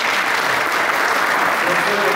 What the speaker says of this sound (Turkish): Alkışlarınızı bekliyoruz.